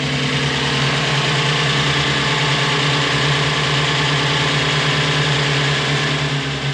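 A farm vehicle engine idles steadily and close, a constant loud rumble with a low hum and unbroken vibration.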